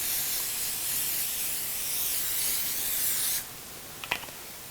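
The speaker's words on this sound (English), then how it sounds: "So we're going to spray our pan." Cooking spray hisses from a can onto a pan in one continuous burst of a few seconds, close and loud, then stops, followed by a couple of light clicks.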